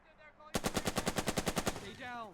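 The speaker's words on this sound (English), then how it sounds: "It's just that machine gun squad I feel like I have to worry about." Rapid machine gun fire from the video game Burden of Command, a steady burst of about a dozen evenly spaced loud shots, preceded and followed by quieter game background sounds.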